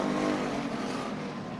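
Race cars roaring around the oval at Bakersfield Speedway during the Richie McGowan Memorial, a steady, loud engine drone that holds without a break.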